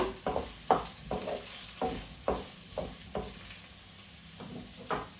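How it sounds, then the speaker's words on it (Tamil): Potatoes frying in a pan while being stirred, a steady sizzle broken by regular scraping strokes roughly every half second, close and moderately quiet with no talk. "இப்போ பாருங்க நான் உருளைக்கிழங்க போட போகிறேன்"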